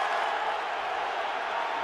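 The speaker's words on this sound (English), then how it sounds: "Crowd making noise, trying to make it difficult for Sam Richardson and the Cyclone offense" Steady roar of a large stadium crowd at a 2014 Iowa Hawkeyes versus Iowa State Cyclones college football game, a dense continuous wash of noise with no breaks as the visiting offense takes the field.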